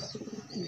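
Blue bar pigeons give soft, low cooing pulses in a steady rolling series, close and fairly quiet, with no voices over them.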